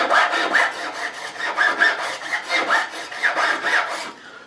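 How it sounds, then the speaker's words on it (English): A crowning file rasps over a metal fret on an Ibanez AS-53 guitar, rounding off a flat-topped fret in steady back-and-forth strokes, about a dozen rhythmic passes, close and clear. "I'll go to my second file, which again is a crowning file, and this will remove any burrs or any inconsistencies"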